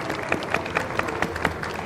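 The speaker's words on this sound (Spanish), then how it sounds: "Un fuerte aplauso para él." Applause greets a speaker at a science event at the Bogotá book fair, steady dense clapping from an audience with sharper individual claps standing out, fairly quiet and without talk.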